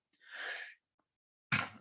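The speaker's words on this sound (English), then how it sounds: "every time I'm on camera, I usually have to sneeze" A single sneeze bursts out abruptly near the end, sharp and close after a breathy inhale and a moment of quiet, with no talking around it.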